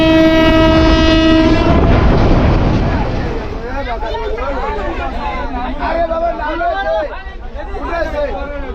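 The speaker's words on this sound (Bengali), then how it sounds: "লালমনিরহাট থেকে পাটগ্রামগামী সকাল 8টার ট্রেনের টিকিট" A passenger train running from Lalmonirhat to Patgram sounds a loud, sustained horn over heavy rumbling, then moves on with a rolling clatter as a crowd of voices chatters nearby.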